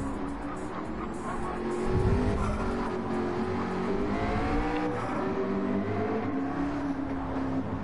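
GT race cars in a Hankook GT championship round braking and turning through a chicane, engines rising and falling with tires squealing in wavering tones, fairly close, with commentary faintly underneath.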